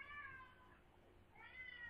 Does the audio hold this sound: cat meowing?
yes